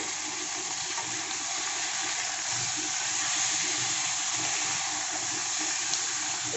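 Chicken and potatoes sizzle together in a pan with a steady, close, even hiss of frying that barely changes throughout, with no voices.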